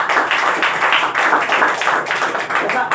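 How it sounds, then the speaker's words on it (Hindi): Audience applause for Ram Naresh at a gathering, a loud and dense burst of many hands clapping together in a steady, even rhythm with no talk over it. "सबसे पहले हम चाह रहे हैं कि राम नरेश सर के लिए जानदार शानदार ताली हो"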